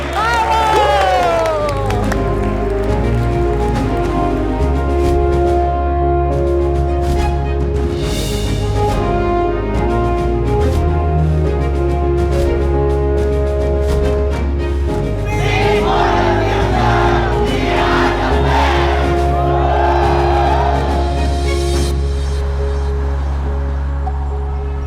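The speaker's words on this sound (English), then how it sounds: "one last round of applause for just everyone who did an amazing job this week" Audience applause and cheering for presenting teams at the end of a week-long event, loud crowd whoops and clapping mixed with background music and voices, sustained throughout.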